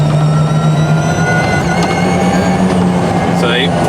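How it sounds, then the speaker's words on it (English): A Polaris electric farm utility vehicle motor whines steadily as it accelerates, a thin rising tone over a low hum and rumbling road noise. "There is a bit of noise, as you can hear, more like a whine really than an engine noise"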